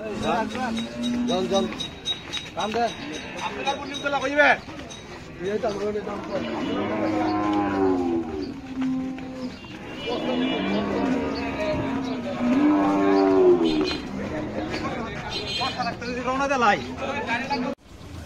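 Cattle moo repeatedly at a livestock market, long low bellowing calls rising over a steady background of people chattering and moving about nearby.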